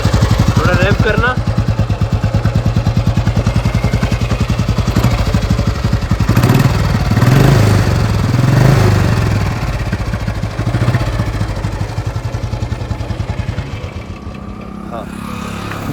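A vintage 1990s Royal Enfield Bullet 350 motorcycle runs close and loud, its thumping single-cylinder beat rising briefly in revs mid-clip, while someone talks over the engine.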